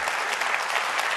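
An audience claps steadily at a comedy-style talk, a brief, dense and even burst of applause with no voices over it.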